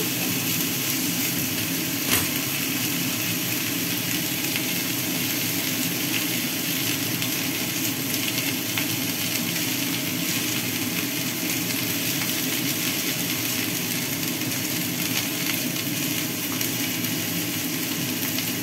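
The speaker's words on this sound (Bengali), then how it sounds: "এটা একটু কষিয়ে দিচ্ছি" Vegetables sautéing in a pan for Bengali shukto give off a steady, hissing sizzle that stays even and close throughout, with no voices over it.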